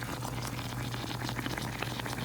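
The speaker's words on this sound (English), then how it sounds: "So I can cook the gari longer, kind of like I'm boiling it." Gari cooking in a pot of water gives a steady low bubbling and soft crackling simmer, close and continuous with no talk.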